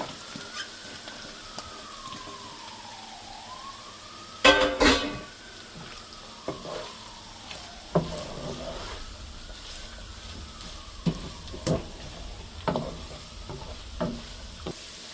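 Carrot and cabbage fry in a pan for spicy fried rice, with a steady sizzle underneath and repeated sharp scrapes and clatters of stirring.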